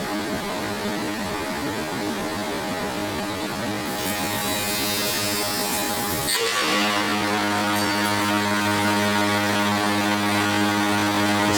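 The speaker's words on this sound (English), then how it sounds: "The sound that the shaper makes is really because of the unbalanced cutter." Woodworking shaper with an unbalanced cutter, played back slowed down: a loud, continuous droning hum rich in harmonics that shifts partway through to a steadier, deeper throbbing tone, with no talking.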